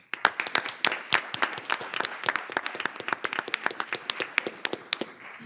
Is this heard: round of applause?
yes